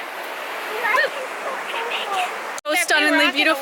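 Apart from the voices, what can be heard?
waterfall on a forest trail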